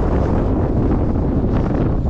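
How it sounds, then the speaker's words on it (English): Strong wind buffets the microphone in a loud, continuous rumbling roar with no pauses. "It's extremely windy here today,"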